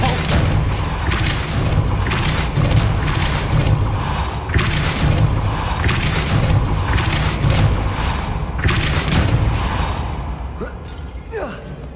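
Depulso spell cast in the video game Hogwarts Legacy, a series of heavy whooshing booms and thuds in quick succession, loud and dense, fading toward the end.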